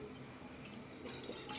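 Water is poured into a cooking pot to boil noodles for manchow soup, making a continuous close splashing, trickling stream that swells slightly toward the end, with no talking.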